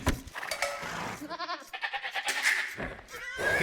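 Sheep bleating from an Age of Empires match, several wavering bleats in quick succession over a busy backdrop of game ambience, fairly close and clear.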